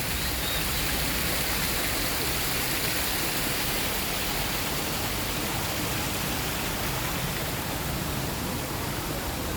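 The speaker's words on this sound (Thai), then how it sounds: "น้ำตกใหญ่ที่สวยงามพอสมควร" A large waterfall gives a steady, loud, broadband roar of falling water, unbroken and even throughout with no voices.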